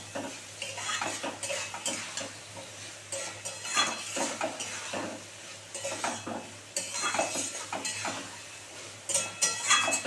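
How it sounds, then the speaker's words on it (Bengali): Chopped banana flower sautéed in oil in a pan, with frequent scraping and clinking stirs of a spatula over a soft sizzle, spaced irregularly and fairly close, with no speech. "এটা দিয়ে মোচাটা দিয়েও সুন্দর করে একটু কষাবো"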